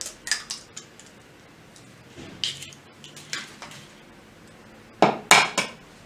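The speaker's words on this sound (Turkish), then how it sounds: "3 tane yumurtamın arkadaşlar hepsini güzelce kırıp koyuyorum" Three eggs cracked into a bowl, a series of sharp shell taps and clinks against the rim spread across the clip, with the loudest knocks near the end; close and clear with no talk.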